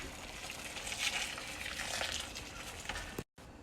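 Water pours steadily onto raw dog food, giving a continuous hissing splash with a brief break near the end and no talk over it.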